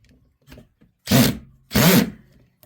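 Two short bursts of a power drill driving a screw into wood, each lasting about half a second, with grinding, rasping contact noise and a brief pause between them.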